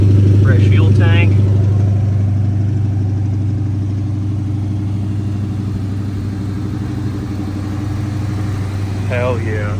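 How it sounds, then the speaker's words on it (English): A 1970 Dodge Charger running outdoors on a fast idle with the choke still on and fresh fuel, a steady low rumble throughout, with a person talking briefly over it at the start and again near the end. "First time outside under her own power. A little high idle for now."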